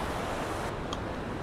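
Natural mountain stream water flowing down from Shivkund on the Manimahesh Yatra trail, a steady, loud broadband rush that fills the whole stretch without pause.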